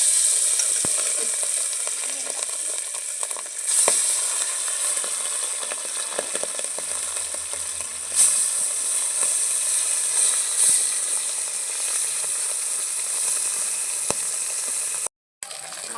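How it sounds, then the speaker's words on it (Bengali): Fish pieces sizzle steadily in hot oil, giving a constant bright crackle with occasional sharp pops and a brief dropout near the end. "তেল গরম হয়ে গেছে, এখন আমি মাছ দেবো।"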